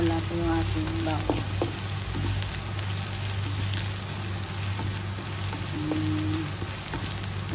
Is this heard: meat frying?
yes